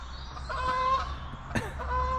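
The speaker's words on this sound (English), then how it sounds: "There go the geese." Honking calls of geese sound at a moderate distance, a few cries rising and falling over a low outdoor rumble, with a sharp knock partway through.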